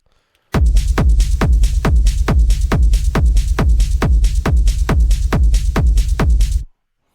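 Techno drum loop with hi-hats, its low end cut and sidechained to a kick, pumping in a steady rhythm of about sixteen evenly spaced hits, loud and close with nothing else over it.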